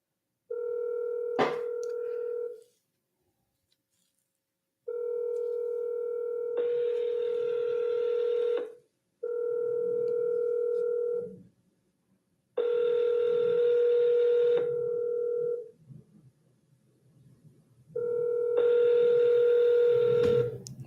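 Phone dialing tones followed by repeated ringback rings on an outgoing cold call to a cash buyer, the steady tone bursts near and clear with gaps of silence between them, no talk.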